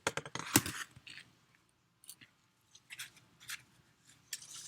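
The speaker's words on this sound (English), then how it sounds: "These are stalks of celery. I'm going to cut one for you so you can see it." A celery stalk being cut, giving a sharp fibrous crunch at first, then a few faint, scattered snips and snaps close by in a quiet room.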